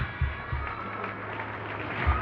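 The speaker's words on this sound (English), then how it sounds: "Give a big hand clap" A hall full of school students at an anniversary function clap together, a dense, steady patter of many hands with no one talking over it.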